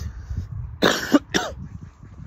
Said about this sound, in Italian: un po' di tosse